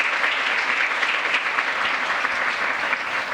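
A youth peace conference audience breaks into another round of applause, a loud, dense, sustained wash of many hands clapping with no speech over it.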